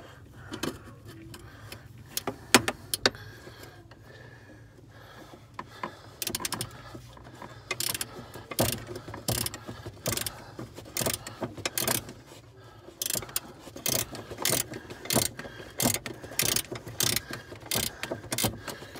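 A ratchet wrench works on a Jeep's clutch master cylinder, clicking in quick rhythmic bursts that grow steadier and louder partway through, with short pauses between strokes. The sound is close and there is no talk.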